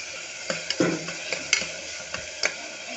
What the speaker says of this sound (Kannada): 1 ಕಪ್ ಟೊಮೊಟೊನ ಆ್ಯಡ್ ಮಾಡ್ಕೊಳ್ಳಿ.